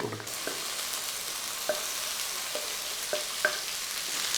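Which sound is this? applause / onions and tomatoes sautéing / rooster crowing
onions and tomatoes sautéing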